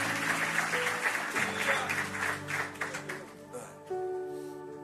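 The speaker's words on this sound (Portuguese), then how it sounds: "Vamos aplaudir a Jesus por isso?" Congregation applauding during a church service in Lisbon, dense clapping sustained throughout with sustained organ or keyboard tones underneath, fading slightly toward the end.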